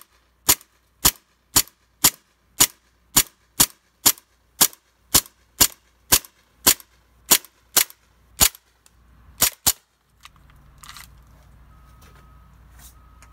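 A CO2-powered gun fires single shots in a steady, evenly spaced sequence of about seventeen sharp cracks, then a quick pair, followed by faint rustling.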